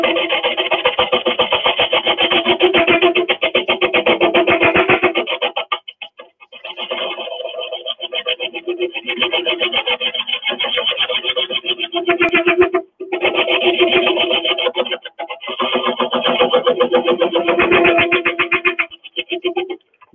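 A woodturning tool cuts into a spinning piece of freshly cut apple wood with a loud, continuous rasping buzz, broken by several short pauses as the cut is lifted and resumed.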